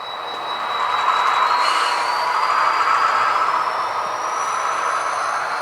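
A model train rolls past with a steady rushing rumble and a thin, rising metallic squeal from the wheels, fairly close and continuous, during slow switching operations.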